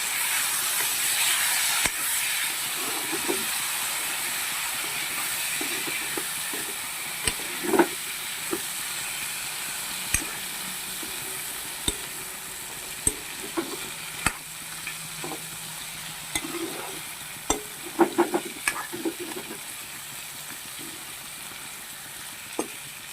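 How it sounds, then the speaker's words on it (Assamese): Jackfruit seeds fry with fried onions in a pan, making a constant hiss and sizzle, with scattered spoon clicks and stirring scrapes growing more frequent toward the end, close and with no voices. "ভাজি লোৱা পিঁয়াজ সোপাতে মই এই কঁঠাল গুটিকেইটা দি দিছোঁ"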